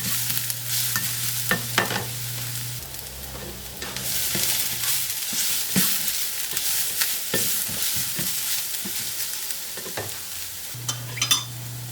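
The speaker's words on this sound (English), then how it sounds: "minced onion and garlic. Stir that in." Minced onion and garlic frying in a pan for a chickpea dish, a continuous close sizzle with repeated clicks and scrapes of stirring over about twelve seconds, with no talking.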